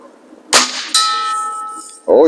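A Diana 460 Magnum air rifle pellet strikes a metal target with a sharp clang, then a second loud hit rings on in a long, bright metallic tone that slowly fades, followed by a voice starting at the end.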